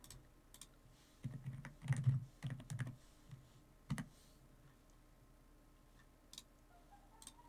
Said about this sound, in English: Can you guys hear my keyboard when I type?